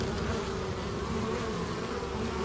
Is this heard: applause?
no